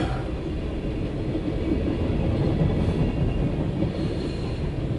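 A CSX Q372 mixed freight train heading eastbound toward Baltimore rumbles past close by, a steady, loud roll of wheels and cars with no pause.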